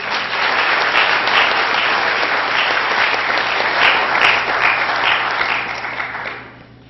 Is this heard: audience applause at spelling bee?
yes